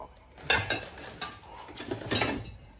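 Dishes and bowls being handled in a home kitchen area, giving a few clinking, scraping knocks at close range, loudest in two short bursts, with no talk over them.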